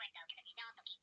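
A mobile phone rings indoors, a quiet chirpy electronic melody of rapid bright tones in short pulsed bursts, heard alone at low volume.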